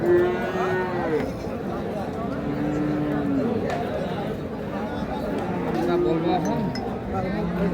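Cows and calves at Ambari cattle market, with low moos rising over a dense, steady din of crowd chatter and the occasional metallic clink throughout.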